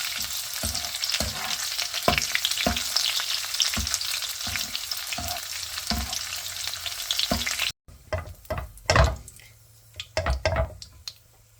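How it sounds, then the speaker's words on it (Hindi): Coconut kernels, almonds and pistachios frying in a pan on a low flame, a steady close sizzle with regular spoon taps, then quieter scraping and clinks as the nuts are stirred and lifted out. "जब हम गिरी बादाम पिस्ते ये फ्राई करके ऐसे डालते हैं"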